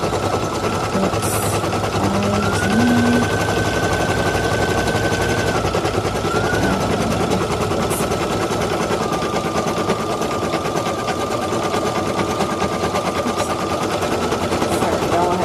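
An embroidery machine stitches a black muzzle onto a felt zebra mask with a loud, continuous, rapid rattling hum that runs unbroken throughout.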